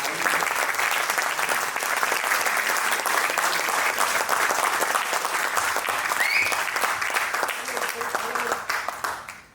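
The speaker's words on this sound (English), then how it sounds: "I think we should clap for Rajiv" Steady, dense applause fills a closing ceremony hall as the audience claps for Rajiv, holding loud throughout before tapering off at the very end.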